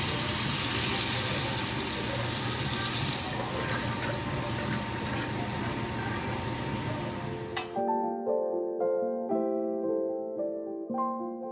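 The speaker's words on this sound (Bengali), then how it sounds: "এবার এর মধ্যে জল দিয়ে দেবো।" Water pours steadily into a pan of oil with black cumin, green chilies and turmeric for a mustard hilsa curry, a continuous rushing hiss for about eight seconds before cutting abruptly to music.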